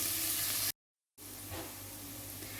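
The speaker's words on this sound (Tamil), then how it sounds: "வெங்காயம் வந்து நல்லா ப்ரௌன் கலர் வர நல்லா வதக்குங்க" Onions sautéing in oil for a vegetable biryani give a steady, soft sizzle and hiss, broken by a brief silent gap before the quiet frying resumes with faint stirring.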